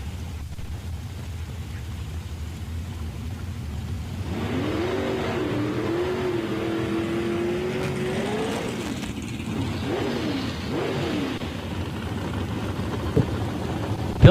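Drag race cars launching at a Woodburn, Oregon drag strip, one of them a Mustang, with a distant engine rising into a sustained revving roar that wavers in pitch, heard alone at moderate level.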